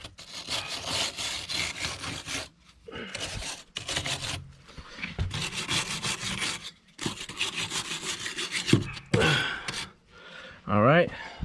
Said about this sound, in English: with a wire brush